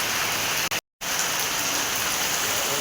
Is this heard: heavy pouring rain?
yes